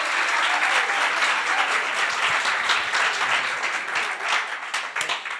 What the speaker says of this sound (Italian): Un applauso a Matthew!